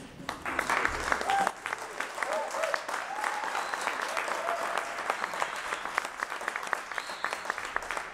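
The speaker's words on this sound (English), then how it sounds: "A round of applause for Will Sutton, please." A comedy club audience applauds comedian Will Sutton at the end of his set, steady dense clapping that fills the room, with a voice briefly heard over it.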